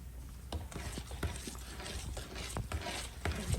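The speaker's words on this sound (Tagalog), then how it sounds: "haluin lang natin ng haluin" Thick banana bread batter mixed with vegetable oil is stirred in a bowl, giving a steady close sequence of wet slapping and scraping strokes with rhythmic clicks as the utensil hits the bowl.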